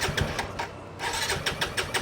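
A TVS Apache RTR 200 4V motorcycle with a dual-barrel exhaust cranks and fires up close by, its engine sputtering in uneven pulses with a brief lull before catching again.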